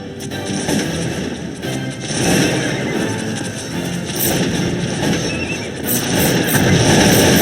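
Cavalry horses neigh and whinny amid a dense Napoleonic-era battle in the strategy game Cossacks 2, Poland against Russia, layered with continuous artillery and musket fire that stays loud throughout.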